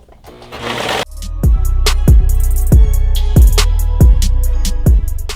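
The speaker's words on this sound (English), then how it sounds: "you do not want to get this too much caught into your needle, into your cutter on your serger" A serger sewing machine stitches fabric for a beginner's dress, running as a loud, steady mechanical whir with a rhythmic thumping pulse about every second after a brief start-up burst.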